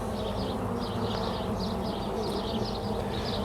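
Honeybees buzz continuously in a thick, close swarm around an open top-bar hive, a steady low drone with wavering higher hums as bees move about the hive.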